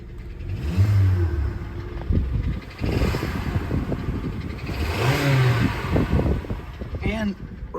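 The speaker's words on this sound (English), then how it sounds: "I can literally hear this thing knocking." A worn Hyundai car engine revving unevenly with a rough, knocking mechanical note, surging and falling in pitch several times while someone talks over it.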